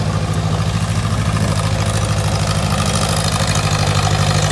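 A tractor engine idles steadily with the PTO engaged, a continuous low rumble with a strong droning hum and mechanical clatter on top, loud and close, running throughout with no talk.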